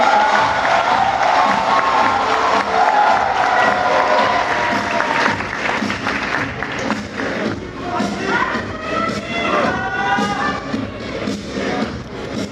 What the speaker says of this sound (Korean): 저희 고생한 선수에게 뜨거운 박수 다시 한번 부탁드립니